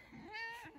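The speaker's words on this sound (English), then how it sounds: "My kitty. She says hi." A pet cat gives one short, soft meow, a brief rising and falling call heard close but faint in a quiet room.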